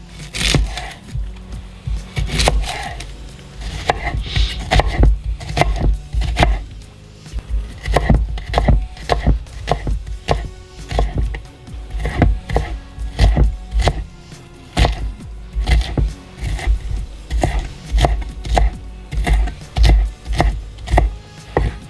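Shallots for a mushroom and shallot tart are chopped with a knife on a board in a run of quick, fairly loud thuds, close by and steady, with brief pauses and no talking.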